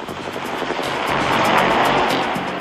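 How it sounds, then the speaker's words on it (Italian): Kiowa helicopter rotors thump in a steady, rapid rhythm under a loud broad rush of engine noise, sustained and fairly close. "Dal cielo, gli elicotteri Kiowa seguono l'escalation dei combattimenti"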